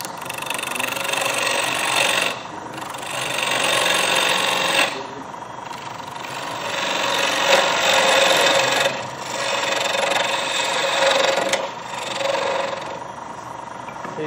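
Wood lathe turning a display base, the gouge cutting with a steady raspy scraping that comes in long passes with brief lulls between them, fairly loud and close, with no talk.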